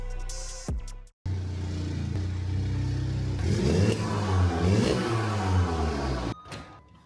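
A VW Caddy van fitted with a Golf R engine accelerates hard, its engine note climbing steadily in pitch through a sweep, then cutting off abruptly, close and loud.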